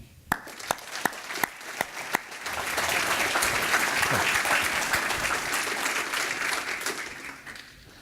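Audience at a business school scholars event applauding to welcome an MBA student speaker: a few sharp single claps first, then sustained, even applause from a crowd in a hall, fading slightly toward the end.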